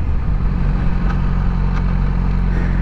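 A motorcycle engine runs steadily with a low rumbling drone just after the clutch is pulled in and the rider shifts up a gear, loud and continuous with no talk.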